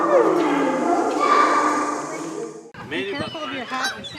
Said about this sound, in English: looks like we have a few ducks here